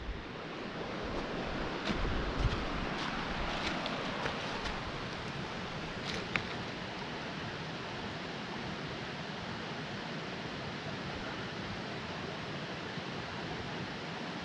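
Steady rushing water roars continuously, broadband and fairly loud, with a few brief clicks near the start and no voices.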